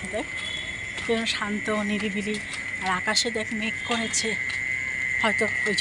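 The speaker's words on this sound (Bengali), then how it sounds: "ঝিঝি পোকা ডাকছে" Crickets keep up a steady high chirping drone outdoors on a quiet rural road under a cloudy sky, while people talk over it throughout.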